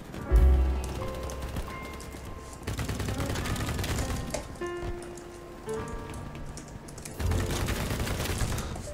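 Bursts of rapid automatic gunfire from a light machine gun in the online shooter BattleBit Remastered, shooting at a sniper, come in several dense volleys with brief pauses between them.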